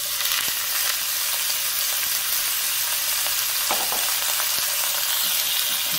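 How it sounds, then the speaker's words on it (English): Meat searing in a tablespoon of vegetable oil in a wok for Peruvian lomo saltado, a loud continuous sizzle with occasional clicks of stirring, no voices. "I'm adding 1 tablespoon of vegetable oil. I'm gonna add my meat."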